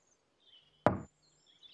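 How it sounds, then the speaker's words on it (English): A single sharp knock on a door lands alone against near silence, with faint electronic tones in the background of a Teletubbies episode. "Dipsy knocked on the door."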